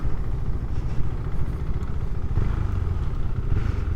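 A KTM 390 Duke motorcycle engine runs steadily at a low idle, a continuous close mechanical rumble with no talking.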